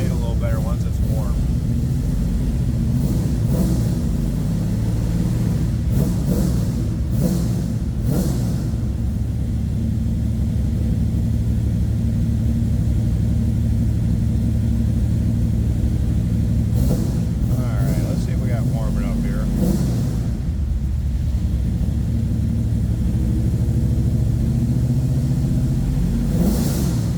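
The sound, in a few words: 1971 Chevrolet Camaro engine idling while warming up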